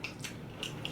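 Crunchy broccoli from a Chinese takeout meal chewed close to the mouth, with a few sharp crisp bites standing out over a short, quiet stretch.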